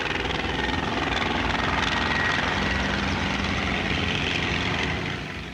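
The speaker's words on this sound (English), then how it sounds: "A tiny Skeeter helicopter shows that even waltzing is within its scope." A tiny Skeeter helicopter flies a waltzing display, its rotor and engine a loud, steady, continuous beating drone with no pause before easing slightly at the end.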